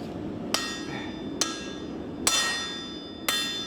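An axe used as a forging hammer strikes metal: four sharp, ringing clanks spaced about a second apart, each with a bright metallic decay, close by.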